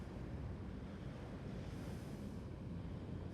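Ocean waves wash in a steady, continuous roar of surf with no breaks, moderately quiet and even throughout, with no voices.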